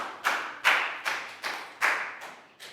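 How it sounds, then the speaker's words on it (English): Class clapping for a student in a Year 3 math lesson, seven evenly spaced sharp claps in a steady rhythm, close and clear, with no talk over them. "Big round of applause for Dan"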